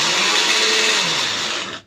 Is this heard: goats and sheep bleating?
no